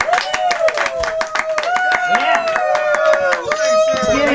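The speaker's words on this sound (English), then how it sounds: "I want you to give these guys the clap." An audience at a comedy show claps steadily in rapid, sharp, rhythmic applause, loud and close, with a voice speaking over it.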